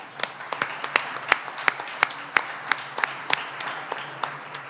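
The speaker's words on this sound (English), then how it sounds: "Can we give her another round of applause?" Applause for a co-host at a Visionary Leadership Awards evening comes as sparse, evenly spaced claps, about a dozen crisp hand strikes in a steady rhythm over a quiet room.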